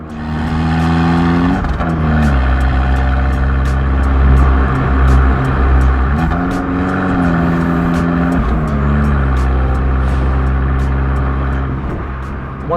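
A Fiat Abarth 695 Tributo Ferrari's engine revs loudly while driving, its tone rising and falling through several gear changes, heard close and continuous without voices.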